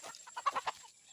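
Desi chickens on a farm give a short run of rhythmic clucks, about five quick bursts close to the microphone, with no talk over them.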